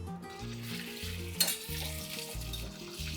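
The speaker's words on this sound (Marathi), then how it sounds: "त्याच्यात आपण आपले हे बटाटे आहेत हे थोडे थोडे घालून गुलाबीसर रंगावर तळून घेणार आहोत" Diced boiled potatoes frying in two to three tablespoons of oil for achari aloo, a steady close sizzle with a brief sharp clatter partway through, over tonal music playing throughout.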